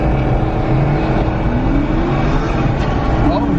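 A new street-legal dirt bike accelerates, its engine note rising steadily and fairly loud throughout, with a voice briefly audible over it.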